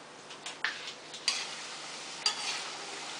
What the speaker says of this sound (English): we are going to fry our namak para till it's become slightly golden brown